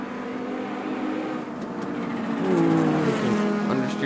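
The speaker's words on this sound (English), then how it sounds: "Hear that turbo winds up." An Audi Quattro rally car climbs a hill on the Nürburgring, its turbocharged engine winding up under acceleration. The loud rising whine and roar build steadily over the tire noise.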